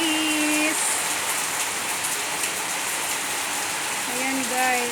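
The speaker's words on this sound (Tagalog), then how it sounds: "Maulan tayo dito sa Malaysia." Steady rain falls on a rainy morning in Malaysia, a dense, even hiss of drops on surfaces that fills the whole stretch, with a brief voice-like tone near the start and end.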